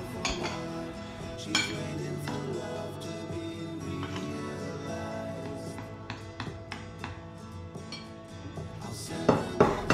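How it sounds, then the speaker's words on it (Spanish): Flour, cocoa powder and sugar are stirred in a bowl for a stout cake, giving steady scraping and repeated clinks of utensil against the bowl, close and continuous, with sharper knocks near the end. "Lo removeremos todo muy bien hasta que se quede homogéneo."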